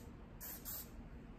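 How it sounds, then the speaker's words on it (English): Hairspray is sprayed onto hair in two short, soft hissing bursts close by, quiet against a faint background hiss. "I will stop and I will spray"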